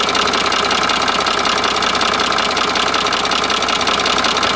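A Mercedes diesel engine idles steadily after an idle-speed adjustment, giving a loud, even mechanical clatter with constant rhythmic knocking that runs without a break and with no voices.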